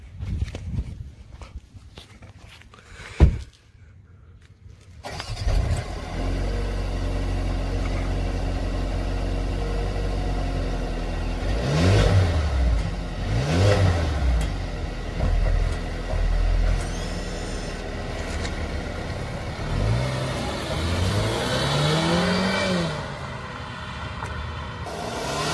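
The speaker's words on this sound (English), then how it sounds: "If there is any exhaust note to be had by that beast of a motor that's under the bonnet, let's hear what it has to offer." A 2020 Mercedes A220 with its 188-horsepower engine rumbling low at idle, then rising and falling in several rev blips, after a quiet start broken by one sharp knock.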